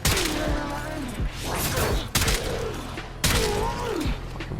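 Snipetron Vandal sniper rifle shots in the Warframe video game: three sharp loud cracks spaced about a second apart, each followed by a ringing tail, with game sound effects in between.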